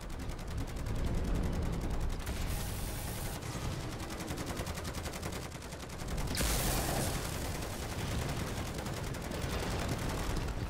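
Automated turrets fire nonstop at a zombie boss in a zombies video game, a steady, loud stream of rapid machine-gun fire that runs the whole time and swells at a few points.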